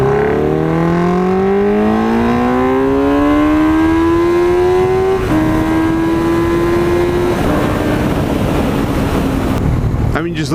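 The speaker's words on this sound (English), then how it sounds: "Alright, so I'm in second gear, and if we can, I would like to do a pull." A 2004 MV Agusta Brutale 750S motorcycle engine pulls hard in second gear on a road, a loud rising howl climbing in pitch for several seconds, then a shift, steadier drone, and heavy wind roar.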